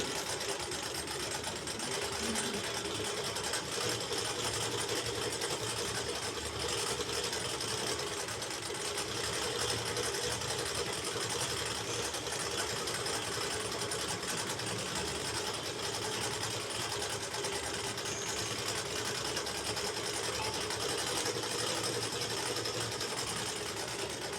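A sewing machine stitches slowly through thick fabric, its motor giving a continuous, even whirring hum with a steady mechanical chatter of the needle, close and unbroken for the whole stretch, with no talk.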